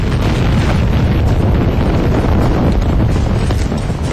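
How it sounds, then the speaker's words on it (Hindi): Erupting volcano with lava bursting upward at the crater, a dense, loud, continuous rumbling roar with heavy low-end buffeting like wind on the microphone, sustained throughout without a distinct single blast. "लेकिन तभी अचानक लावा ऊपर की ओर फटता है और यहां अफरा तफरी मच जाती है"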